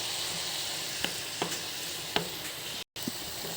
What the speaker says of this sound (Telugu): ఆకు మగ్గే వరకు ఇలా కలుపుకోవాలి